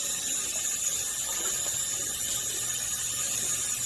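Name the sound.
water from tap running over quinoa in strainer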